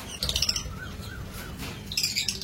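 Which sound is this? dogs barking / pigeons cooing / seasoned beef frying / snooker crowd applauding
pigeons cooing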